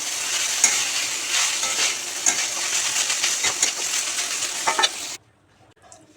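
Pumpkin sizzles and hisses in a hot pan with occasional scraping stirs, then the frying stops abruptly near the end.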